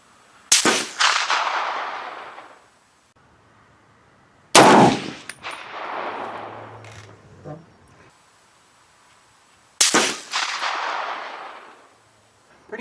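Three loud M1A rifle shots fired at a steady interval of about four and a half seconds. Each sharp crack trails into a long rolling echo that fades slowly outdoors.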